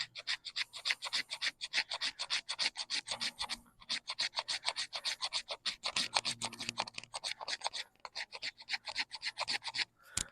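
The choil of a D2 steel outdoor knife scrapes shavings off wood in rapid, rhythmic strokes that run steadily, close and crisp, with only a couple of brief pauses.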